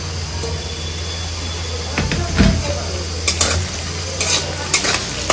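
Capsicum and peas frying in a pan give a steady sizzle, with a spatula scraping and clinking against the metal in short bursts over it.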